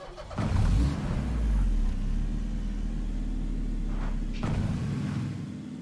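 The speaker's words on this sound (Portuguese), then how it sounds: "Acelera e o carro não vai." Car engine in the Knives Out video game revs and roars near and fairly loud, with a strong rumble that rises and then holds steady for several seconds.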